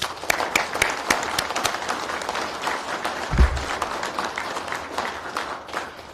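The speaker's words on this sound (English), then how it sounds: "Please put your hands together yet again and give them a big round of applause" Applause from a graduation ceremony audience honoring law enforcement graduates, a steady wash of many hands clapping throughout, with a brief low thump partway through.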